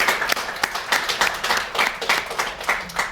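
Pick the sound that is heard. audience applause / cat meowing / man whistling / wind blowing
audience applause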